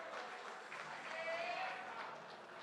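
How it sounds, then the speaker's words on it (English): Faint, distant audience applause at a soccer awards ceremony, a soft steady wash of clapping with a voice faintly audible through the middle. "big round of applause for our presentation party"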